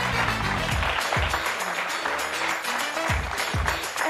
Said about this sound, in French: vous qui nous regardez, on applaudit pour Ornella, s'il vous plaît.